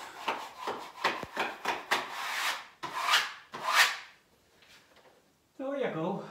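Blade cutting wallpaper while hanging a quality paper on a hall, stairs and landing wall: a run of short rasping strokes, close and fairly loud, then a pause and a brief voice-like sound at the end.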